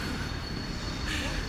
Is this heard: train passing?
yes